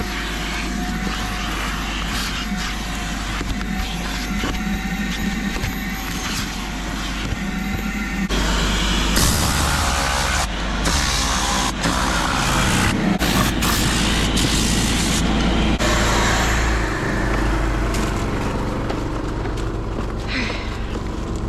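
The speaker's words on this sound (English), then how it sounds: "So just wanted to vacuum that up." Steady loud whine of a vacuum cleaner sucking up dust inside a car during an interior detail, continuous with shifting pitch as the nozzle moves.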